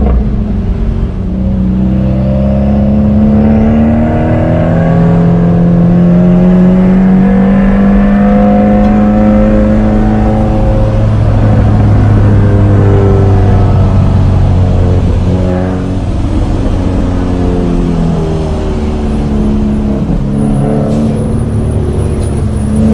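Manual car engine in traffic, revving up through first gear with rising then falling tones as the driver shifts to second, a loud, close cabin drone lasting throughout.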